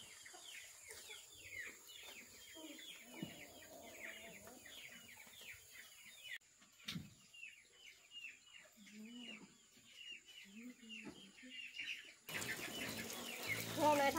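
Chickens cluck steadily at close range on a rural household farm, with brief wing flaps and occasional louder squawks, while people talk quietly over them in places.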